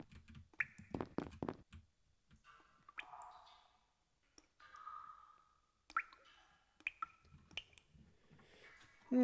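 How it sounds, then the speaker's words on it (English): Splashing one-shot sound effects in the Among Us video game, a string of separate wet plops, drips and squishy splashes, some clustered and some alone, close and clear against near silence. "I'm hearing some nice splashing one-shots there."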